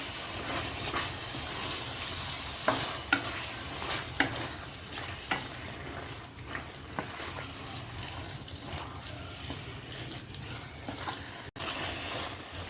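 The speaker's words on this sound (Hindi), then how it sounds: "इसको अच्छे से नीचे ऊपर करके अच्छे से मिलाना है।" Marinated chicken being stirred and turned in a pan over a gas flame, with a steady sizzle and scraping spoon strokes, a few sharper clinks against the pan, close and alone without talk.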